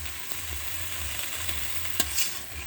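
Potatoes cut into large chunks fry with mixed greens (drumstick leaves, Malabar spinach and other leafy greens) in a pan, a steady close sizzle with occasional stirring scrapes and clinks, and no talk.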